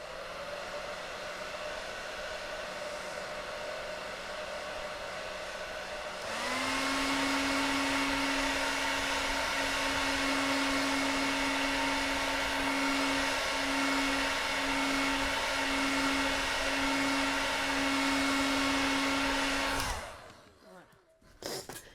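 A heat tool hums loudly as it dries watercolour paint on a landscape painting, a steady whirring drone with a slight pulsing tone that cuts off abruptly near the end, leaving faint handling noise.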